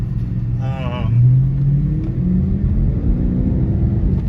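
A 2003 Lincoln LS V8 with Flowmaster exhaust idling, a deep steady rumble close by that swells briefly as it revs a little.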